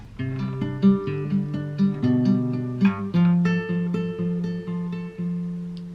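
Plucked guitar notes ring out in a steady alternating pattern, clear and close, with sustained tones overlapping each other and no voices.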